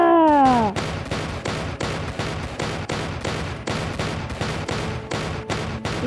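A tactical shotgun fires in the Roblox game Zombie Attack, with a rapid, evenly spaced string of about fifteen loud blasts after a short opening tone.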